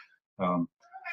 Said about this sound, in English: that's my cat in the background there.